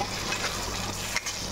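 Katla fish kalia frying in a pan while being stirred, giving a steady dense sizzle with a faint scrape partway through, fairly quiet with no voices.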